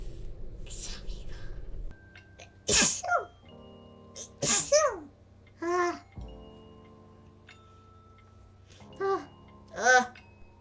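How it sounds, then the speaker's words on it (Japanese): A person sneezes repeatedly, about five loud sharp sneezes spaced across the stretch, each with a voiced tail, separated by quieter breathing and soft background sound. "Today so much sneeze day."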